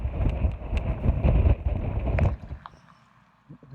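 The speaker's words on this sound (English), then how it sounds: "It's so windy" Strong wind buffets the microphone in loud, rumbling gusts on Scotland's North Coast 500 route, easing off toward the end and leaving a quieter rustle.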